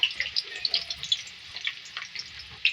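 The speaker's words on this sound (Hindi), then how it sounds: "देखिए फ्राई हो रही है प्याज।" Two medium onions frying in oil for a street-style aloo baingan curry, giving a steady close sizzle with crackling pops and occasional stirring, no talk.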